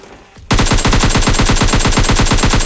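Rapid automatic gunfire in PUBG Mobile Lite, a loud sustained burst of evenly spaced shots starting abruptly after a brief quiet moment and running steadily to the end.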